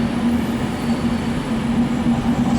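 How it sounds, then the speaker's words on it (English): A train rolls into a platform at Liverpool Lime Street station, a continuous loud rumble with a steady low hum and no voices. "train now approaching platform 9 is not for public use."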